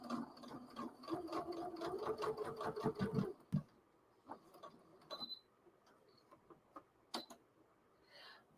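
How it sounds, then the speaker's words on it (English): Electronic sewing machine stitching in a fast, rhythmic run of clicks for about three seconds, then stopping, leaving scattered quiet ticks and small mechanical taps. "This is an electronic sewing machine."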